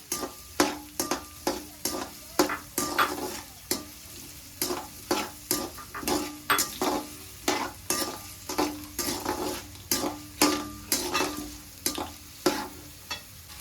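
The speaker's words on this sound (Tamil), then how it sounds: "வெங்காயம் ரொம்ப நேரம் வதங்கணும்னு இல்லை, கொஞ்சம் டிரான்ஸ்பரண்ட் ஆனா போதும்" Onions sautéing in a pan for egg rice, an ongoing sizzle punctuated by regular clinking scrapes of a spoon stirring against the metal, close and rhythmic, no one speaking.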